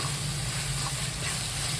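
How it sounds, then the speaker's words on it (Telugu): Onions and masala frying in a pan, a steady close sizzle with soft crackle running continuously and evenly, with no voices. "ఉల్లిపాయలతో కూడా ఈ మసాలా మొత్తం ఫ్రై అయితే"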